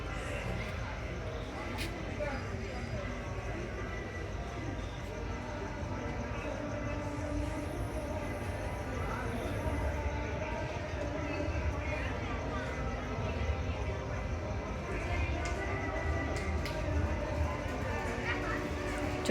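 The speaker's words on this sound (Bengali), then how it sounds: "চলে এসছে বন্দে ভারত।" Vande Bharat express train arriving at a station, a steady low rumble and rolling clatter held for a long stretch at moderate level, with faint voices around.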